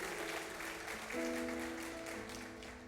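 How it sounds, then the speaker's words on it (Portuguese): A church congregation applauds during a celebration service, steady dense clapping from a crowd heard at a distance, with music tones sustained beneath. "Você pode aplaudir a Ele, vamos lá"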